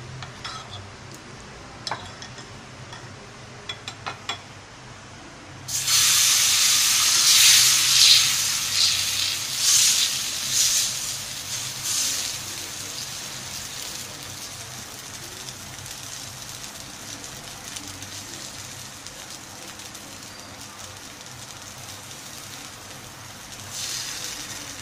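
Flour batter for a healthy breakfast dish hits hot oil in a pan and bursts into a loud, steady sizzle that slowly eases off, after a few quiet clicks of utensils.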